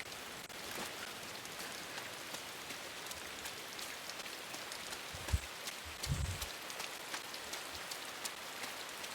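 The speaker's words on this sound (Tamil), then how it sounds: "மழை பெய்யுது ஃப்ரெண்ட்ஸ்." Steady video game rain patters continuously with fine crackling drops, a constant soft wash of sound with a couple of low thuds near the middle and no voices.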